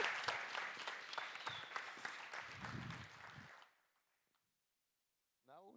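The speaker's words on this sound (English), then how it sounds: "But you can also applaud these 2 guys here." Audience applause in a conference hall at a PHP developer event, brisk and fairly loud clapping for about three and a half seconds that stops abruptly, leaving near silence before a voice begins talking.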